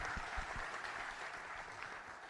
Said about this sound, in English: So round of applause for these talented folks.